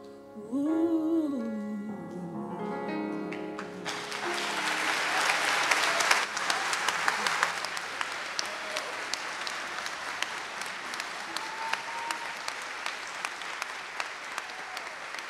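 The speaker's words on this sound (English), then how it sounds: "another round of applause" Audience applause at a university honors convocation, a sustained burst of clapping from a crowd after a sung or intoned phrase at the start, thinning to scattered claps toward the end.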